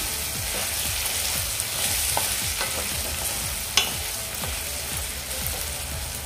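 Masala spices frying in oil in an uncovered pan: a steady, dense sizzle with faint stirring scrapes throughout, close and moderately loud, with no talk.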